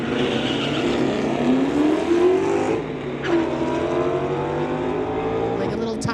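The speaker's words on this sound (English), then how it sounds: "Like a little tire spin for Lauren as he took off" Race car engine sound from a 2003 Mustang launching against a '67 Ford Fairlane at a street-legal drag race, with loud revving and rising engine tones over steady crowd or track noise, under commentary.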